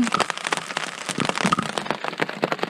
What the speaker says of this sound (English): And it is a rainy one indeed